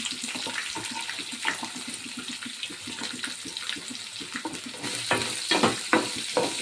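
Peanuts, onion, green chilli and ginger frying in hot oil, giving a steady close sizzle with stirring scrapes that grow louder and more clattery toward the end.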